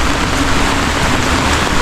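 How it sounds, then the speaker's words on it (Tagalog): Heavy rain pours down during a flood, a loud, dense and steady hiss of water drumming on surfaces with no break. "Lakas ng ulan."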